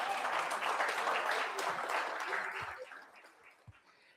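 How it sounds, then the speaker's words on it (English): Delegates at the Canada-Africa Business Conference in Namibia applaud a choir, a full round of clapping that holds for a few seconds and then fades into a few scattered claps. "so please give them a round of applause."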